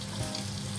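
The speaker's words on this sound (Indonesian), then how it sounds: "menggoreng tofu kan minyaknya bisa meletus-meletus" Tofu lightly dusted with flour frying in hot oil for sapo tofu, giving a steady close sizzle with faint crackles and pops throughout the short moment, no voices.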